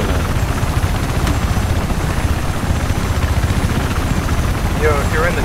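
A helicopter in Battlefield 4 gives off a steady, loud rotor thrum that stays constant throughout. Voices are heard over the chopping drone.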